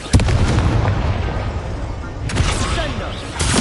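Confringo fire spells blast in Hogwarts Legacy: a sharp explosive crack opens a stretch of rumbling booms, and further bursts land near the middle and at the end.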